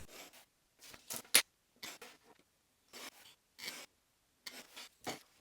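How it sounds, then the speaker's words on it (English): Short bursts of rasping paper-cutting sounds, snips and scrapes coming in uneven clusters with quiet gaps between them, close by. "Next, I'm cutting out the paper templates."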